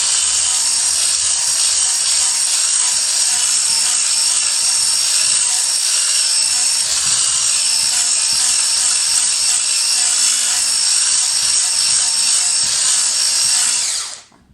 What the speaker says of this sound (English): And then whisk it up.